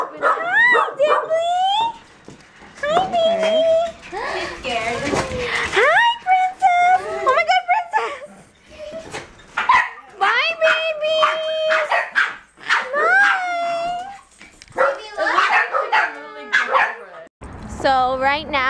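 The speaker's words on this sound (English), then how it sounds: "So right now we're just gonna go feed Jolene's dogs" Several dogs bark, yip and whimper excitedly in a near-continuous stream of overlapping barks and whines, close by and loud.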